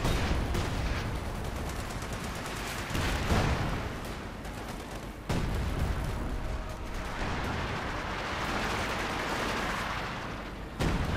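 Heavy artillery and gunfire in a Company of Heroes 2 battle: booming shell impacts and crackling volleys roll on continuously, loud and dense, with sharp blasts cutting through the din.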